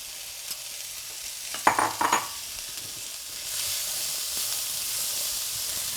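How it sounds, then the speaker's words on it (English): Chopped zucchini and corn drop into a hot skillet with a brief burst of clatter and stirring, then settle into a steady, moderately loud sizzle and hiss of frying. "I'm going to prepare to put in our zucchini and corn that we chopped up. Just simply put this right into the skillet here."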